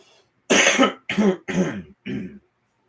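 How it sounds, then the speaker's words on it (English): Four quick, harsh throat-clearing bursts in a row, close and loud, with brief pauses between them. "Clear my throat before we get to the next one."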